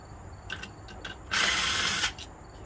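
Ratchet wrench loosening the top engine mount bolts on a 2013 Nissan Sentra: a few short clicking bursts, then one longer steady ratcheting run, close and clear with no talk.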